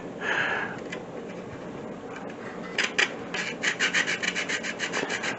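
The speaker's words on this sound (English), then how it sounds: "I'm going to use whole nutmeg on this. Grind it up." Whole nutmeg rasped on a grater for apple pie moonshine, first a soft scraping stretch, then a quick series of short, rhythmic rubbing strokes close to the mic, no talking.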